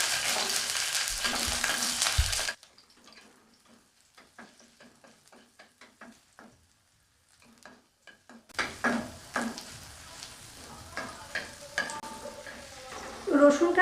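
Whole garlic cloves frying in hot oil in a wok. The sizzle starts loud, drops to faint scattered crackles and a near silence, then swells again into busy spattering with stirring sounds close by.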